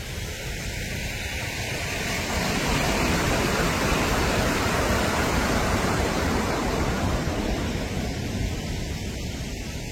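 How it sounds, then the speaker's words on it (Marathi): Water pours over the Bawali dam at Igatpuri with great force, a loud, dense, unbroken roar of torrential overflow heard close by for the whole stretch, with no voices. "वरतून ओव्हरफ्लो होताना आपल्याला पाण्याचा फोर्स बघायला मिळतोय."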